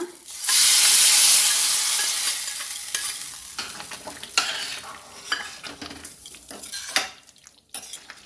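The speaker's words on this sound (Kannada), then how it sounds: "ಇವಾಗ ಈ ಒಗ್ಗರಣೆ ಹಾಕಿದ್ದೀನಿ ನಾನು ಇವಾಗ." Red and green chillies hit hot oil for a tempering over a bottle gourd sagu, bursting into a loud hiss that fades, followed by scattered scrapes and clinks of stirring in the pan, with no voices.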